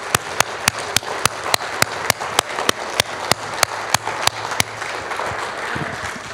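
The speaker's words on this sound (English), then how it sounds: "Let's give him a round of applause." At a church service, sharp claps ring out in a steady, evenly spaced rhythm, loud and close, for about five seconds before stopping, leaving a low background murmur.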